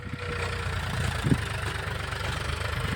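A tractor engine chugs steadily nearby during castor sowing, a continuous low knocking idle rumble with no talking.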